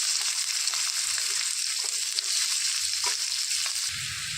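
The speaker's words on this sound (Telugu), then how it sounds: "సన్నగా తరిగి పెట్టుకున్న ఆనియన్స్ వేసేసుకోవాలి" Finely chopped onions dropped into hot oil with cumin seeds for a dhaba-style capsicum egg fry, giving a loud, continuous hissing sizzle with occasional soft stirring knocks, close and without talk.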